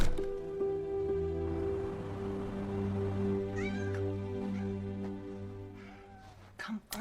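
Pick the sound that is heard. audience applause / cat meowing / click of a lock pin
cat meowing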